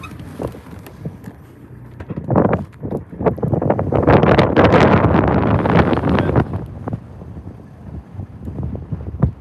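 Strong wind buffets a cliffside campsite, roaring in loud gusts that swell to a sustained blast in the middle and then ease into lighter rumbles against the microphone, with no talking.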